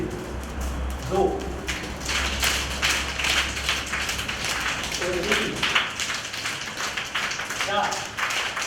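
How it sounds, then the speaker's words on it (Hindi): A class of children in a Mathura primary school clap slowly, each tapping one finger against one hand, giving soft repeated taps in a steady counted rhythm while voices carry on around them. "एक हाथ से ताली बजानी, एक उंगली से"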